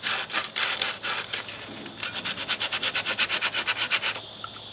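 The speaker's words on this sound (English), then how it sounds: "Let me give that a scuff with some sandpaper." Sandpaper scuffing a grimy old radiator fitting on a classic Holden, a close, steady run of rhythmic back-and-forth rubbing strokes that quicken into an even, regular pattern before stopping.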